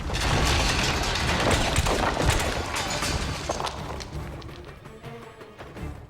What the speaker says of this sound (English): that's how I completely waste a grenade